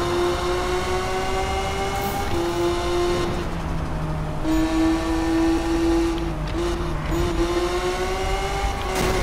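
A Lamborghini Aventador races in Need for Speed Most Wanted, its engine holding a steady high drone that dips and climbs again through gear changes, loud and close, with no voices.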